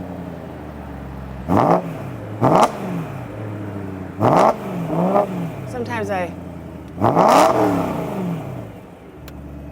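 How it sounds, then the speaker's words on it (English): The V8 engine of a BMW E93 M3 convertible revs hard in repeated bursts, roaring up and dropping back, with a brief spoken word between blips. "revving the V8"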